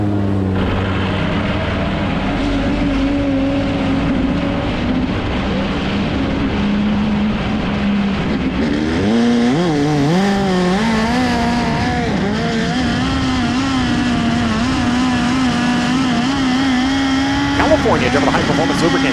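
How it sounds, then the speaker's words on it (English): A USAC National Midget race car, chassis 7X, runs laps on a Kansas track, its high-revving engine droning loud and steady with rising and falling pitch as it shifts and passes, continuous throughout. "Thomas Meserol in the 7X on track."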